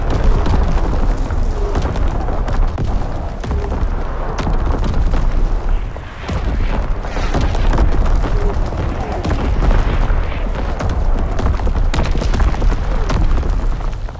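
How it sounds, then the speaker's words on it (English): Enemy artillery barrage in the World War II shooter Call of Duty WWII, a dense, continuous roar of booming explosions and gunfire rumbling heavily throughout, loud and chaotic with no clear gaps. "Incoming enemy artillery!"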